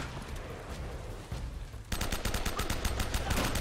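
Rapid bursts of enemy gunfire in Uncharted: Drake's Fortune start about halfway through, sharp repeated shots over steady game ambience, loud and close.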